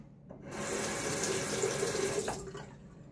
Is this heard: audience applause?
no